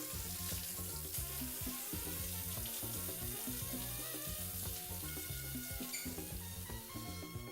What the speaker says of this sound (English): I'll be just washing it off just to peel off the char part, because you don't want that bitterness.